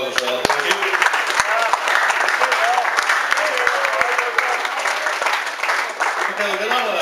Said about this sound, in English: Give yourselves a big round of applause as well.